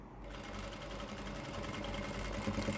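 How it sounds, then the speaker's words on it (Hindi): Sewing machine stitching a seam on a pant, a fast continuous mechanical whir with a steady rapid needle rhythm, close and fairly quiet. "यहाँ पे सिलाई लगा देनी है इस तरीके से जैसे मैं लगा रहा हूँ"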